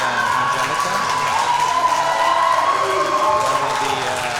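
A crowd cheers and applauds with whoops for a female powerlifter at the Desert Barbell Classic 2021 meet. The sound is a steady, fairly loud wash of clapping and shouting in a hall.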